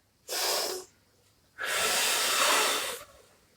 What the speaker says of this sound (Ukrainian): Набираємо в легені дуже багато повітря, складаємо губи трубочкою, підставляємо долоньку і видихаємо.